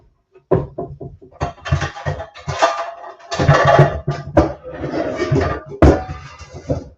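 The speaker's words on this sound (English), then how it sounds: "I'm going to use a bigger frying pan." A large cast iron frying pan is pulled out and set down in a home kitchen, giving several knocks and metallic clanks of cookware alongside cupboard sounds, close and fairly loud, with some speech mixed in.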